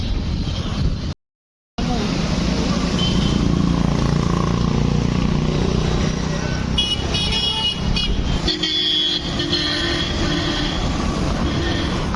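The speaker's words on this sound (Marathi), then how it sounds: "गाड्या आहेत खूप" Heavy road traffic rumbles past on a busy street while walking, with dense engine noise throughout and several car horns honking near the end.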